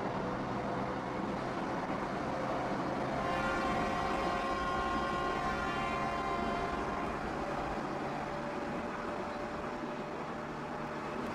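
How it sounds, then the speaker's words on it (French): In a smartphone train simulator game, a train pulls away with a continuous low rumble and a rising, humming motor whine that builds and then fades back into the steady drone. "Faisons avancer le train."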